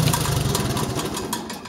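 A 1973 IH Farmall 140 tractor engine idling, a loud, close, steady rhythmic chug with a low mechanical rumble throughout.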